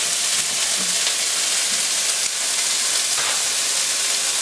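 Garlic and peppers sizzle loudly in a pan for a pork po' boy, a dense, constant hiss of frying close to the ear with faint stirring scrapes and no talking.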